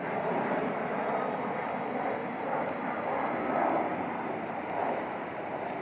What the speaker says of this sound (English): There's a plane landing at LaGuardia.